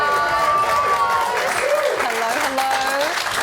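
A TV studio audience applauds in a steady, fairly loud wash of clapping, with voices of the crowd and hosts talking over it.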